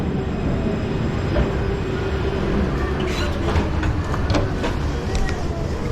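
A tram bound for Germany rolls in with a low rumbling drone, rhythmic wheel clacks and faint squeals from the rails, fairly loud and close.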